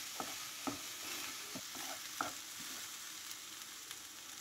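Ingredients being sautéed in a pan for a creamy bread snack, a soft continuous sizzle with a few spoon scrapes and taps against the pan, quiet and close, with no talking.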